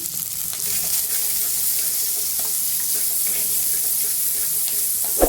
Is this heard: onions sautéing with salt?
yes